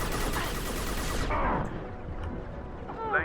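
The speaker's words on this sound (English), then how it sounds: "Shepard also having to switch to the off-meta pick of the SMG to get through this shield" Continuous SMG fire in Mass Effect on Insanity, a dense rattling burst against an enemy shield that cuts off abruptly, leaving faint game noise and a brief voice.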